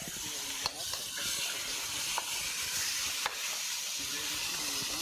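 Chicken with coconut stir-frying in a hot wok gives a steady broad sizzle and hiss throughout, with a few faint clicks of utensils against the pan.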